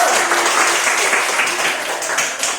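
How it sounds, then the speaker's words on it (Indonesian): A classroom group claps together in steady, close applause for a small team, the clapping fairly loud and continuous before tapering slightly toward the end. "berikan tepuk tangan buat kelompok 1"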